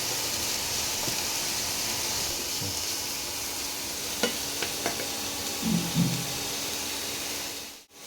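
Chicken frying in mustard oil in a pan gives a steady, even sizzle and hiss throughout, with a few light clicks and soft stirring scrapes, then a sharp clatter right at the end.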